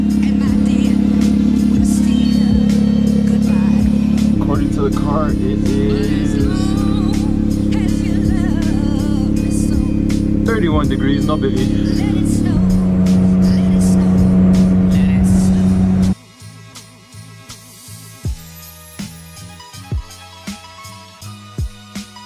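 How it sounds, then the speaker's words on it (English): A race car engine idles with a steady low drone, then cuts off, followed by scattered clicks and knocks while a person talks. "Warming up the race car."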